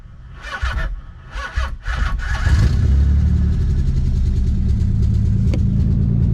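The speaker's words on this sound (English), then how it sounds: "let's go test start the car with our new exhaust, see how it sounds" A starter cranks in several short bursts, then a Nissan 300ZX engine with a new exhaust catches and settles into a steady, throaty idle close by.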